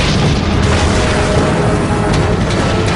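Tank cannon fire and explosions from a T-72 versus M1A1 Abrams desert battle fill the clip with a loud, dense, continuous booming roar, with a few sharper blasts standing out near the end.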